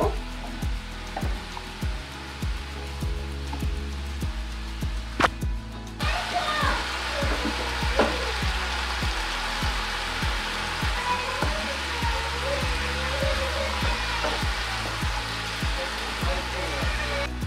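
Seasonal winter vegetables stir-fry in a pan with a continuous crackling sizzle, while a spatula scrapes and taps in a regular rhythm. The sound grows brighter partway through as the lid comes off.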